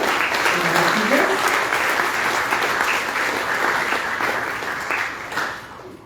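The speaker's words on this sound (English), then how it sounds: "Our achievers truly deserve a loud applause." A seated audience breaks into steady, sustained applause for student achievers at a Goa Talent Search Examination felicitation ceremony. The dense clapping holds evenly and then tapers off at the end, with a voice briefly audible underneath.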